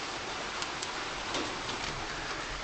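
Steady rain patters on metal trash cans during a summer storm, a dense hiss with occasional sharper drips and ticks standing out, close by and continuous.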